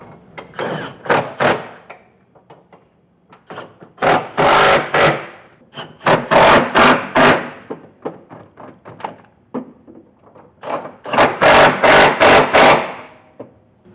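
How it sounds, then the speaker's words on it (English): Bolts on the bed of a 2022 Ford F-250 Super Duty being tightened with a 19mm socket: bursts of close, rapid metallic ratcheting clicks in several clusters, separated by short pauses and softer handling knocks. "So I got a 19mm socket. I'm going to get these all snugged up."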